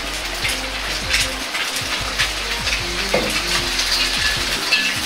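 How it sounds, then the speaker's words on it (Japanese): Eggs fry in a pan for a Chinese-style rice bowl, cooked on both sides, with a continuous crackling sizzle full of dense popping and spitting, close and fairly loud throughout. "卵を焼いていきます。"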